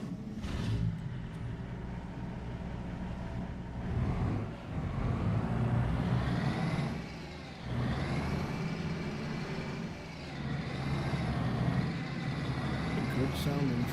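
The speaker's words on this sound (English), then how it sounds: "A good sounding truck." A truck engine in a farming video game hums steadily and throughout, with a low rumbling drone, brief dips and a moment of revving or brake hiss near the end.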